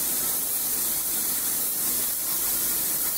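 An airbrush gives off a fine spray as a continuous soft hiss, steady and close, with no break and no voices.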